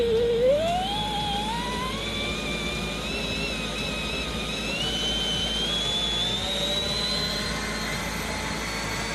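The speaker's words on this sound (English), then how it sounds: "So I'm going to turn the machine on." A fiber optic cable jetting machine starting up and running steadily, its whine climbing in pitch over a constant loud mechanical roar, with no talking.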